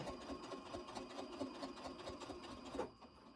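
A sewing machine back stitching a quilt block, a steady rapid mechanical chatter of the needle running close and alone, stopping abruptly near the end.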